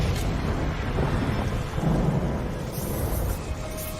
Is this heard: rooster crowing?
no